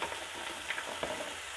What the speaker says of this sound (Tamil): தக்காளி வெங்காயம் நல்லா வதங்கிருச்சு. நல்லா குலைவாக வதங்கிருச்சு.